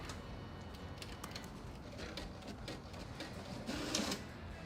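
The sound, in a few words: printer printing on IK Plus 80 gsm paper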